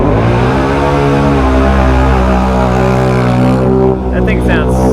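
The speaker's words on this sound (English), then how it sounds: "That thing sounds so nasty. That exhaust is loud. That thing is so loud." A Can-Am Outlander XMR ATV with a loud modified exhaust churns through a swamp, its engine droning steadily with a deep, rough, throaty roar at high revs, close and dominating throughout.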